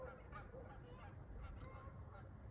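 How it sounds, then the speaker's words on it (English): Geese honking in a flock at a distance, repeated calls overlapping against a steady low rumble of engine or traffic noise. "Geese."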